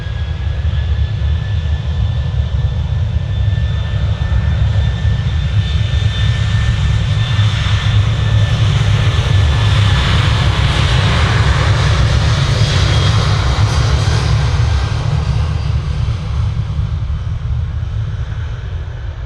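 A Ryanair jet airliner at Manchester Airport roars loudly and steadily for the whole stretch, a broad continuous engine rush with a faint high whine, no voices over it.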